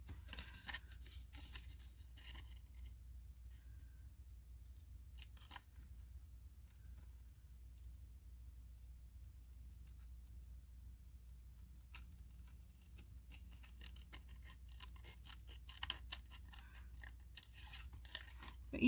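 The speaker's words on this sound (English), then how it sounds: "I will put you guys on pause and then cut out the other two" Scissors snipping out paper card pieces for handmade butterfly-themed cards, a quiet run of crisp cuts in bursts at the start and again toward the end, with a faint hum and no speech.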